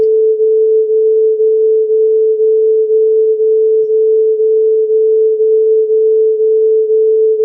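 Two pure sine tones at 440 Hz and 438 Hz combine into one steady loud tone that swells and fades in a regular pulsing beat, about twice per second, with nothing else heard.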